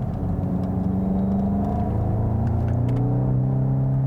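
A 2022 Volkswagen GTI with a dual-clutch transmission laps a race track. Its engine holds a steady, rising drone with a low rumble, heard from inside the car.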